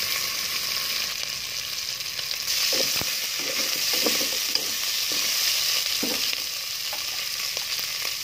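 Nilaga ingredients with jackfruit are sautéed in a pan with a little salt: a continuous hiss of frying with soft stirring scrapes and a few clunks, close and unbroken, with no talking.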